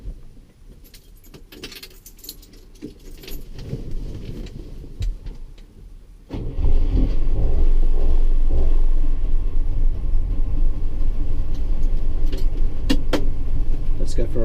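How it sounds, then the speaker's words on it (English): A 1958 DKW F93 car starts up and drives off, its engine rumbling loud and steady after a quieter stretch of keys jangling and cabin handling noises. "I'm going to take my 1958 DKW out for a bit of a drive."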